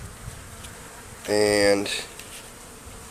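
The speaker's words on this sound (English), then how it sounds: "my goal is to try and shake these bees out of this tree into this box" A swarm of honeybees in a tree buzzes steadily, with one sudden louder burst of buzzing as the bees are shaken loose, and a brief spoken word at the start.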